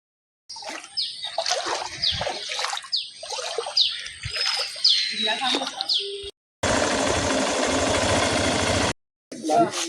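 Floodwater rushes under pressure near a sluice gate and over a flooded road, first heard under someone talking, then as a steady, loud, broadband roar on its own for a couple of seconds.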